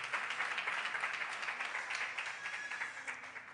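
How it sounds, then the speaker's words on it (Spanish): Applause in a church congregation, a steady even wash of many hands clapping at moderate distance, quiet overall and unbroken for the whole stretch, with no voices rising above it. "damos un aplauso de gratitud"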